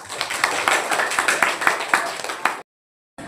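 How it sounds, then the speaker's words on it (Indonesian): Students in a classroom clap together in a quick, brisk burst of applause that stops abruptly, followed by a short silence. "Tepuk tangan untuk semuanya."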